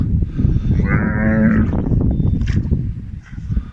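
A farm cow gives one long, loud, close moo that swells and then fades, with no talk over it.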